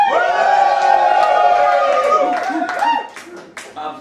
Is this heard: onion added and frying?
no